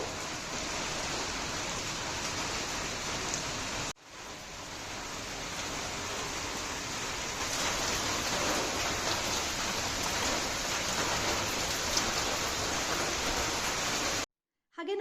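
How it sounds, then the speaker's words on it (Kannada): Steady, dense rain pours outdoors, a constant loud hiss with no voices, briefly cut off near the start and again near the end. "ಹೊರಗಡೆ ಬೇರೆ ಫುಲ್ ಮಳೆ ಬೇರೆ ಇತ್ತು ಇವತ್ತು"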